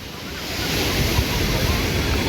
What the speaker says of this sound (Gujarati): મોજા આવે છે ભાઈ